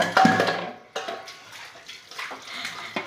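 Tap water runs and splashes while dishes are washed by hand, with clattering dish knocks and a sharp hit near the start, then uneven splashing continuing alone.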